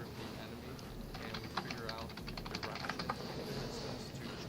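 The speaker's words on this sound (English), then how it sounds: "Your typing distracts me." Rapid typing on a computer keyboard during a live online Q&A, soft clustered clicks pattering under continuous background talk and noise.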